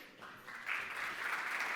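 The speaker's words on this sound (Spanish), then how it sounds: "Un aplauso para él." Brief applause from a conference audience swells quickly from quiet to steady clapping over under two seconds.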